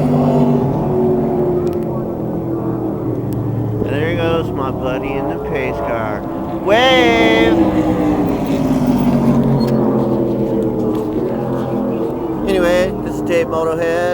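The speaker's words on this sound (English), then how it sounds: "And there goes my buddy in the pace car." A pace car drives around a stock car race track at a sportsman stock car event, its engine a steady droning rumble that swells and revs as it passes, with someone talking over it throughout.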